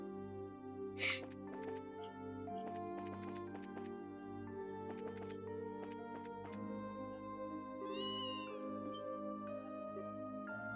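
A cat meows repeatedly in a quiet, musical soundscape from the game Trails in the Sky SC, short plaintive calls spaced across the scene with a steady tonal hum underneath.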